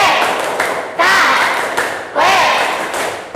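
A classroom of students performs a rhythmic clapping chant, with sharp claps and thumps landing in a steady pattern under loud chanting voices.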